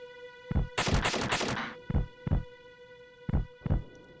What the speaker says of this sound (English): I hear the heartbeat from here